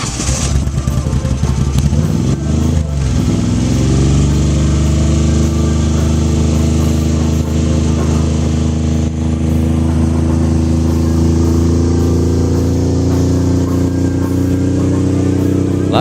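A 750cc pushrod race motorcycle engine runs loud and close at a steady high idle, with a brief blip of revs early on and a constant droning tone throughout.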